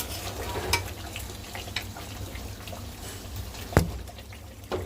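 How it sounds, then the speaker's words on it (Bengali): Potatoes being stirred and fried in a pan, a steady close sizzle with a few sharp scraping clinks of the spatula, alone without talk. "আলুটা দিয়ে একটু কষিয়ে তারপরে দিয়ে দিই।"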